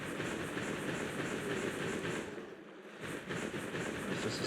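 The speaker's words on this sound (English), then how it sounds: "It's just a sleeping locomotive" A sleeping locomotive in the Wintertide Tunnel of Monster Hunter Stories, a steady low mechanical rumble with a faint rhythmic pulsing, dipping briefly before resuming.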